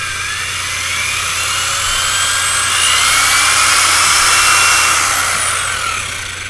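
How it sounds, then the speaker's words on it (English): A power drill whines steadily at high pitch as it bores through a wooden staff, loud and close, its tone rising slightly under load for several seconds before easing off, with no talking. "Begin drilling."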